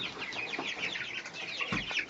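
Laying hens on a small farm cluck and murmur continuously, several birds close by in an overlapping, busy chatter.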